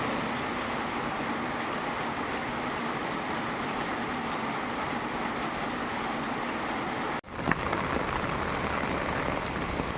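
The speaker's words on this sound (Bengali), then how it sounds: "সকাল থেকে তো প্রচুর বৃষ্টি হচ্ছে" Steady, dense hiss of heavy rain pouring continuously, with a brief dip and a sharp knock near the end before the downpour resumes.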